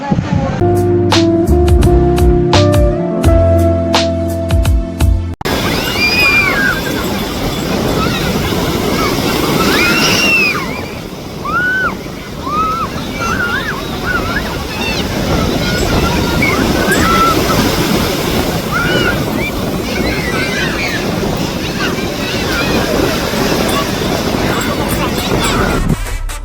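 Sea waves at Tiruchendur beach in Tamil Nadu: a steady roar of surf and wind with scattered voices and crowd chatter over it, following a few seconds of music at the start.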